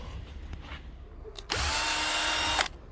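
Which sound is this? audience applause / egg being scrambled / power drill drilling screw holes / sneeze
power drill drilling screw holes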